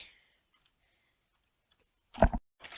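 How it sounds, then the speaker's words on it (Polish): A few soft, sharp clicks of a stone button in Minecraft, the last two louder and close together near the end, with near silence between them. "Po prostu później klikamy guzik,"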